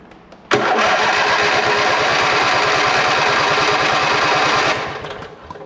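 A Yard Machines lawnmower engine catches after a brief lead-in, then runs loud and steady with a fast, even pulse for about four seconds before throttling down and fading, with no talk over it.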